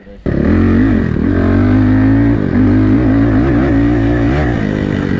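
A carbureted 450 dirt bike engine revs loud and close, holding a steady high idle with repeated throttle blips that rise and fall in pitch throughout.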